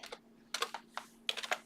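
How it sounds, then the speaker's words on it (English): Computer keyboard keys clatter in quick bursts of typing with short pauses between, close and fairly clear over a faint steady hum. "I was typing too fast."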